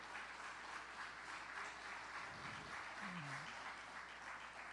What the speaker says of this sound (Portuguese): Dê um aplauso ao Senhor e glorifica a Deus